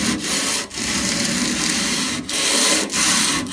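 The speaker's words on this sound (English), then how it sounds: "I'm going to sand most of the rust away." Sanding rust off the bottom of a steel Powr-Kraft toolbox, a loud continuous abrasive rubbing with a few brief pauses between strokes, close by and alone.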